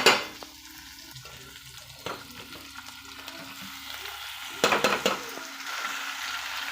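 Drumsticks and tomato fry in a pan for a curry, a steady close sizzle with a few clattering stirs of the spoon against the pan, loudest at the start and again near the end.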